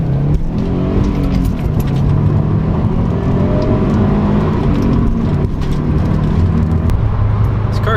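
A car, compared against a Camaro, accelerating hard with a loud, steady engine roar that rises in pitch through the revs, heard close from inside the vehicle, continuous throughout with no talking.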